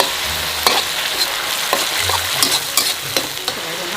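Pork trotters sizzle and crackle in a hot wok with oil, soy sauce and oyster sauce, spatula scrapes and clatters punctuating the steady frying close by, with no talk.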